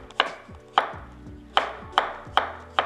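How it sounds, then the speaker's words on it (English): Zucchini is chopped with a knife on a cutting board in six sharp, evenly spaced knocks, each a crisp close thud ringing briefly, with no voices. "You just wanna start chopping."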